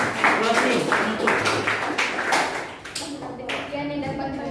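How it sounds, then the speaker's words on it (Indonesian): A classroom audience claps briefly after a student presentation on nouns and pronouns, a short burst of clapping mixed with voices, followed by talking. "Coba tepuk tangan."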